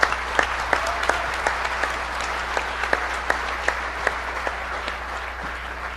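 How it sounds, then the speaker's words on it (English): Round of applause from a DEF CON 13 hacking conference audience, sparse but steady clapping from many hands with distinct sharp claps standing out in the room, continuing evenly without talk. "please give a round of applause for the EFF"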